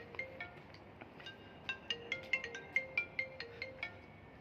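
A phone rings with an incoming call, a quiet, repeating electronic ringtone melody of short chiming notes, heard alone in the room.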